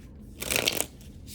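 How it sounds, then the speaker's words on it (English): Tarot cards being shuffled by hand, a brief close riffle of papery flutter rising and fading over about a second, with no talk. "I'm giving it a good shuffle first."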